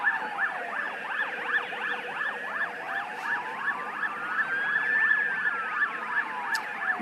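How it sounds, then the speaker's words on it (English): Several ambulance sirens wail at once near Karen Rolton Oval in Adelaide, overlapping rising and falling tones sweeping continuously at moderate distance, with no one talking. "The familiar sound of the ambulances here at Karen Rolton Oval."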